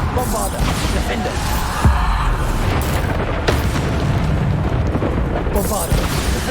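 Repeated explosive blasts of the Bombarda spell in Hogwarts Legacy, played on hard difficulty: a loud, dense stream of booms and crackling bursts with sharp hits standing out from a constant heavy roar.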